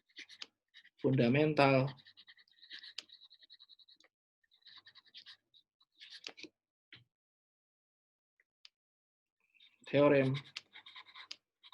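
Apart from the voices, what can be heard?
lecturer writing calculus notes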